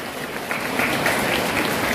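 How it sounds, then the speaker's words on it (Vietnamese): An audience at a Vietnamese high school opening ceremony applauds a tenth-grade class, a brief, even wash of many hands clapping at a distance, steady and without speech. "xin một tràng pháo tay dành cho lớp 10A7"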